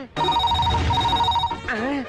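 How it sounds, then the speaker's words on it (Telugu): A telephone rings steadily with a bright electronic warble for over a second, then stops as a voice begins speaking. "అయ్యో, ఫోన్ మోగేసింది"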